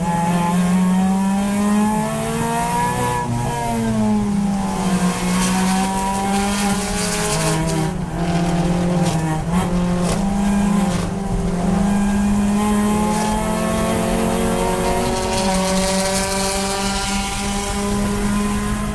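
A race car engine droning loud and steady from inside the car during an endurance race at Clark Speedway, its pitch dipping and rising with gear changes and throttle through corners, with no talk over it.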